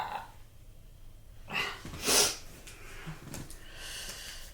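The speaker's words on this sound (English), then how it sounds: "Yeah, as usual, my sniffles" A few short nasal sniffs and snorts come close up against quiet background noise, one sharper sniff standing out in the middle.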